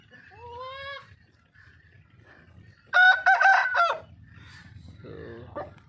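An Aseel rooster crows outdoors among farm fowl: a short rising crow first, then a louder, harsher crow a few seconds later, with faint background noise between calls.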